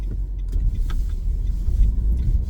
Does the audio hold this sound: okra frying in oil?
no